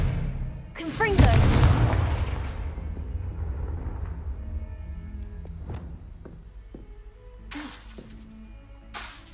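A Confringo fire spell bursts with a loud crackling explosion in Hogwarts Legacy, a sharp blast near the start whose debris rumble and crackle fade over several seconds, followed by a few smaller impact pops.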